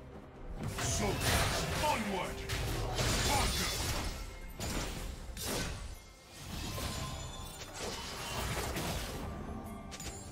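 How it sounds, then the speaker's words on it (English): Turret destruction in League of Legends, a crashing, shattering mechanical collapse with creaks and whooshes amid dense game effects and an announcer voice, steady and loud throughout. "Red team's turret has been destroyed."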